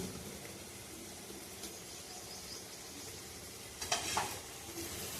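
Low, steady sizzle of ginger, garlic and chili paste frying in mustard oil in a kadai, with a couple of brief spoon scrapes against the pan near the end.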